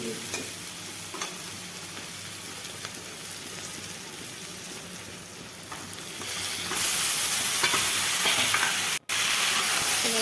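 Loud, steady sizzling of cauliflower frying in a pan, with occasional stirring scrapes; the hiss swells louder partway through and briefly cuts out near the end.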